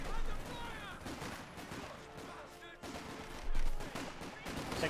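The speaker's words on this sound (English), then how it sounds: "Panther 4 shoots." Cannon fire and battle explosions from a Panther tank's 75mm gun in Company of Heroes 2 boom out in several loud, heavy bursts over a dense din of combat noise, with speech mixed in.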